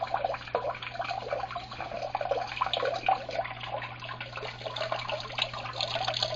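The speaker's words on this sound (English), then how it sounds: "the water coming out of the supply tubes and filling up" Water flows out of supply tubes into an indoor DIY aquaponics grow bin, a soft continuous trickle and splash with a steady low hum from a pump underneath.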